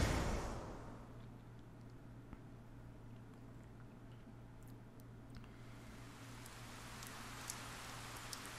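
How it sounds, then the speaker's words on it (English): Rain in the video game 428: Shibuya Scramble, a steady soft patter of falling rain on surfaces with scattered drop clicks, continuous and faint under a low hum, with no voices. "The rain won't let up."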